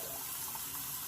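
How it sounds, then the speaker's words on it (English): Warm water runs steadily from a tap to rinse a shaving brush knot, making a constant close hiss and splash with no talking. "Take your time to rinse out the knot"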